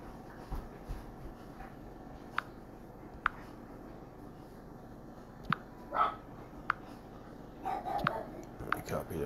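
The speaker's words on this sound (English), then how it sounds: "Don't know why my dogs are going crazy." Dogs barking in a room indoors: faint, scattered sharp barks and yelps at irregular moments over quiet background hiss, with a few louder bursts near the end.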